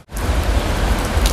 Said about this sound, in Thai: สําหรับมื้อนี้มันฝนตกนะครับนะ